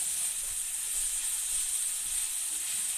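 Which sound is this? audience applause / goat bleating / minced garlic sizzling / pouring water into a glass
minced garlic sizzling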